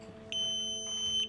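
A small buzzer on a Makey circuit board gives a high-pitched electronic beep that starts abruptly and holds steady for about a second, close and fairly quiet in a room.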